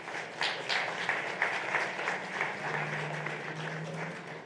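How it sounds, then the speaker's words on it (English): Audience applause at a live fashion show and auction, steady rhythmic clapping from a sizable crowd carrying on for several seconds at moderate loudness, with a low hum underneath. "Big round of applause for them"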